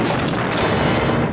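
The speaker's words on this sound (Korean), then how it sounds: "지뢰가 폭발하지만" Landmine exploding in a war film, a loud sustained blast with rough crackling rumble and hiss that fills the whole moment and slowly fades at the end.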